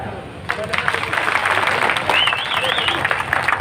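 Steady applause from a crowd at the inauguration of a new government hospital building fills the whole stretch, with a whistle rising briefly near the end.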